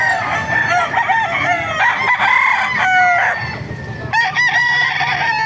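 Several roosters crow loudly and close by at a chicken market in Baliuag, Bulacan, overlapping one another, with hens clucking underneath throughout.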